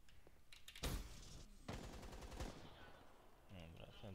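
Gunfire in Call of Duty Black Ops 3, bursts of automatic shots and sharp blasts at moderate distance, with game noise and faint voices mixed in.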